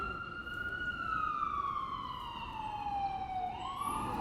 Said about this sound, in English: I'm really hoping that police siren doesn't get picked up.